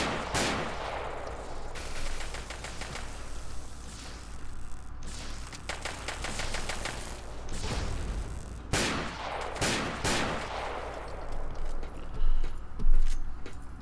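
Gunfire in Fallout 3 aimed at the player: several loud sharp shot bursts, the biggest cluster around the middle and more near the end, over a steady game backdrop with no talk.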